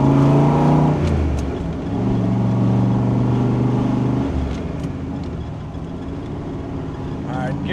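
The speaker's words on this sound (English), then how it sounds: "the engine's running strong" A 1967 Chevrolet Corvette with the L71 427 V8 drives along, its deep engine note rising through revs, dropping on a gear change, then building again, loud and close with a voice talking over it.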